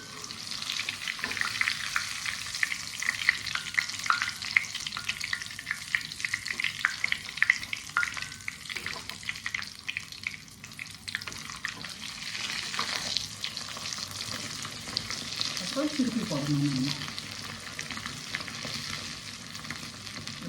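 Masala puri, Iyengar style, frying in hot oil: a continuous loud crackling sizzle with bursts of bubbling and occasional stirring scrapes, close up and without speech.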